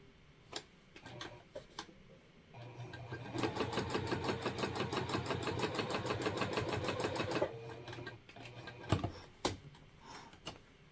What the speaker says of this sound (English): we want to top stitch our top lines here